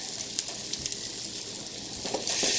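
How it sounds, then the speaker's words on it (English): Gentle continuous sizzling of keto cauliflower fritters frying in a pan, close and moderately quiet, with a few light clicks and a brief louder hiss near the end. "They're cauliflower fritters. So they're sizzling now"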